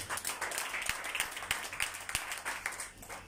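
A church congregation claps and applauds in praise of the Lord, a steady dense wash of many hands with a few sharper claps standing out, continuous throughout.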